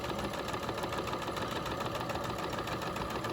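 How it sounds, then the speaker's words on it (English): A sewing machine runs steadily as it topstitches along the presser foot, a constant, even mechanical whir with a fast stitching rhythm, close and alone with no talk. "So you are just going to sew and keep your stitch lined up with the presser foot"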